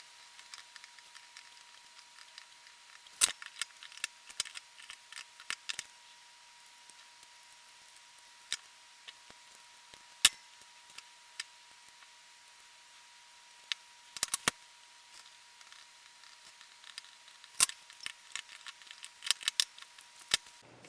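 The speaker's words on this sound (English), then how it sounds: "So do these and then snip off the excess." Sharp, sparse snips as excess leads are clipped from freshly soldered components on a KIM-1 clone (KIM UNO) kit board, quiet individual clicks scattered irregularly over a faint steady hum.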